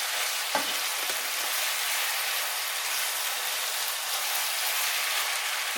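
Tomato and chili peppers sizzle and fry steadily in a hot pan while making gözleme with minced meat and mushrooms, a continuous crackling hiss with a brief louder stir near the start.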